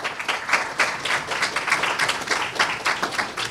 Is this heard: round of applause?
yes